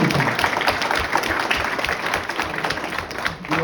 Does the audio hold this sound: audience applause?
yes